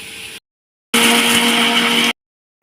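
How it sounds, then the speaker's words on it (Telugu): A mixer grinder whirs loudly as it grinds garlic and rock salt into powder: a brief burst, a pause, then a longer steady run of about a second. "ఇప్పుడు దాన్ని మంచిగా మిక్సీ పట్టేసుకొని పౌడర్ చేసేసుకోవాలి"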